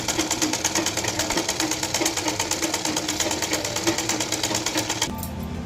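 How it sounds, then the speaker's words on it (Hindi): Sewing machine running steadily while stitching the lining of a cross-cut blouse, a fast continuous mechanical whir and clatter close by that stops abruptly near the end. "हल्का सा फिर से सिलाई चला दीजिए ताकि हमारे कपड़े में सफाई आ जाएगी"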